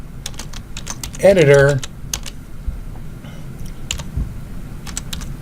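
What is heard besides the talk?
typing a comment on a computer keyboard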